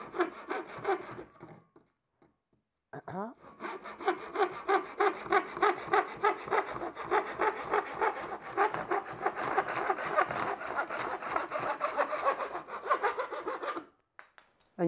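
Hand saw cutting through a piece of wood, with steady back-and-forth rasping strokes in a fast, even rhythm that run for about ten seconds after a short pause, close and fairly loud.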